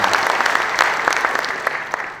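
Audience applause at a gathering with Indonesian military families, a steady burst of many hands clapping with scattered sharper claps over about two seconds.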